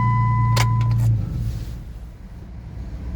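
A 2007–2019 Jeep Wrangler with manual transmission cranks briefly, then its engine catches and settles into a low, steady idle close by, with no talking.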